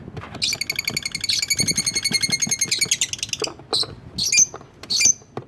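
Lovebirds and their chicks, albino birds among them, chirp busily and close by in rapid, overlapping trills that thin out into a few sharp separate calls near the end.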